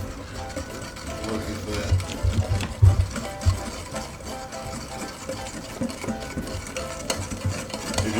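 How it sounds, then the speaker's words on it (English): Batter for cauliflower wings is whisked in a bowl, with rapid uneven rhythmic clattering and scraping that swells and fades, while a voice speaks briefly over it. "All right, let's get to whisking."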